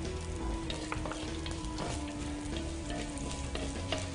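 Onions frying in hot tempering oil for a Sankranthi festival dish give a steady, dense sizzle and crackle, close and continuous, with occasional stirring scrapes and no voices.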